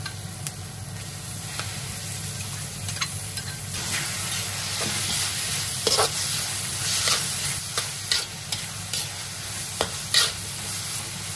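Ground meat sizzles steadily in a hot pan with onions while a spoon stirs it, producing a constant frying hiss with scraping and clinking strokes throughout, close and fairly loud, with no voices.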